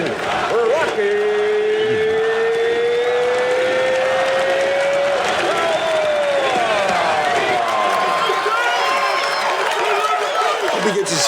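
A bar crowd in a Rocky Balboa film scene cheers and claps continuously, a loud dense roar with whoops and a rising sustained shout, voices mixed through it.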